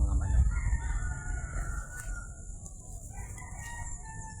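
Pet chickens cluck near the start, with a rooster crowing faintly in the distance over a steady outdoor hum of wind and insects.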